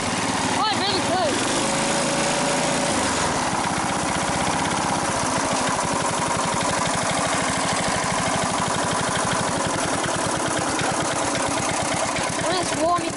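A 1972 Briggs & Stratton 3.5 hp small engine that burns a bit of oil runs steadily up close, a loud rapid putter with a rattling mechanical edge that settles into an even idle, with no talk over it.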